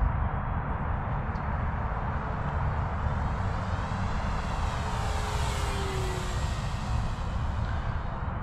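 FMS P-47 Bonnie 1.5 m radio-controlled warbird flying at full throttle in a steep climb, its propeller engine giving a steady, loud whine whose pitch slowly sweeps up and down as it passes.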